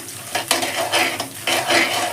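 Cumin seeds frying in oil and stirred around a home cooking pan, giving a steady crackling sizzle with a few louder scraping strokes of the spoon, close up and with no talking.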